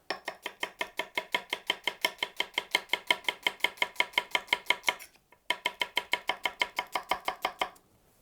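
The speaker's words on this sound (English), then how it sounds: "just go down the line with a couple of these prep knives and do a julienne at the edge of the cutting board" Rapid, evenly paced knife strikes as a prep knife julienne-cuts at the edge of a cutting board, crisp close knocks in a long run, a short pause, then another run.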